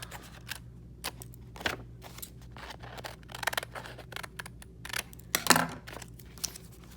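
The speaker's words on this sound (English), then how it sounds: "trim off my excess" Scissors snip repeatedly at close range, trimming excess paper from a dragon craft, a quick irregular series of crisp cuts with light paper rustling and no talk.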